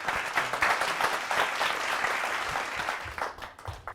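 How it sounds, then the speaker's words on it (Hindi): An audience at a Hindi kavi sammelan poetry gathering breaks into dense, sustained applause to welcome a poet, with many hands clapping steadily for about four seconds before thinning slightly at the end. "घर बैठे बैठे ओरिजिनल तालियों से स्वागत करिए"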